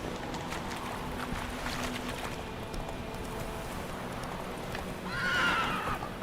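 A horse in The Witcher 3 video game gallops with rhythmic hoofbeats under ambient game sound, and a brief whinny rises near the end.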